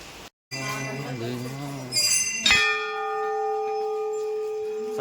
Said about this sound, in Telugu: గంట అంత పెద్దది.